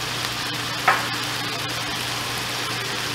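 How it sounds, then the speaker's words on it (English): Seasoning and black pepper sizzling in a pan while cooking ackee and salt fish, a steady close fry with one quick scrape of a spoon stirring, no voices. "We'll go ahead and give it a quick stir."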